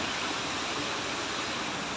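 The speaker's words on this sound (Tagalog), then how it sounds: "Nandito ako sa may sa may ilog" Antipolo River in Kalinan, Davao City rushes past in a steady, even broadband wash of flowing water, continuous and fairly close throughout.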